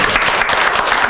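Audience in a Korean fire-protection engineering exam-prep class claps loudly, a dense continuous burst of many hands filling the short stretch from start to finish.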